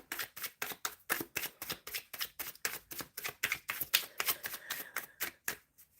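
Tarot cards being shuffled for a live reading, giving a quick run of crisp, riffling clicks and flutters in steady bursts, close and fairly soft, with no voices.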